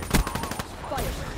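A friendly hellstorm barrage in a video game: a burst of rapid, overlapping gunfire-like impacts crackles for about a second, then gives way to a softer whooshing tail.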